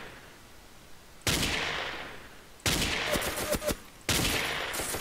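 Three loud bursts of automatic gunfire in the blocky multiplayer shooter Ace of Spades, each a sustained rattling volley lasting about a second, separated by short pauses, with no talking.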